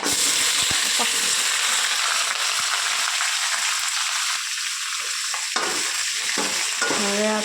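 Chopped onions with dal sautéing in hot oil in a pan, a close, loud sizzle with repeated scraping stir strokes and clinks of a spoon, running continuously without speech.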